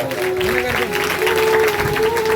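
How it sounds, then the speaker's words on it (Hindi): Audience at a village religious discourse on Satguru Ravidas claps together in a broad, steady burst of applause, fairly close, with a voice and some tonal sound running underneath. "उनके लिए सभी जोरदार ताली बजाओ"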